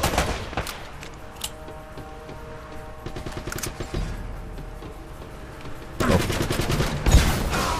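Pistol fire in Uncharted: Drake's Fortune: scattered sharp shots and bursts of gunfire over a constant game soundscape, with a denser, louder stretch of firing near the end.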